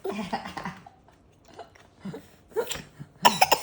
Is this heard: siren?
no